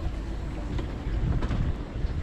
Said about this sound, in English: We've got a big gust of wind there now.